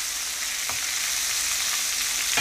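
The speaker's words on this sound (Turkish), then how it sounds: "Oysa ki çok daha fazla yağda kızarıyor bu. Köfteleri çevirerek kızartabilirsiniz." Köfte meatballs fry in plenty of hot oil, giving a steady, loud, close sizzle with a couple of faint clicks as the meatballs are turned, and no voices.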